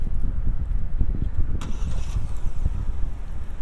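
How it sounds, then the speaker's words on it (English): A 2021 Genesis GV80 engine starts via the remote start key, settling into a low, steady idle rumble heard close by with a faint higher whine partway through. "So you can remote start the vehicle with the key"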